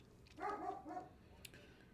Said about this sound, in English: You might be able to hear the dog in the background there.